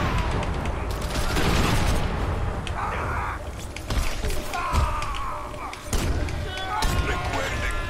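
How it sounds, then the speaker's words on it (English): Grenades thrown at a gang boss in the Crackdown video game: dense, continuous clatter of booms, crackling blasts and metallic mechanical noises, loud and busy throughout, with someone talking over it. "Just keep throwing grenades at him"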